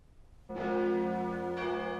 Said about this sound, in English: churches all over the north rang their bells backwards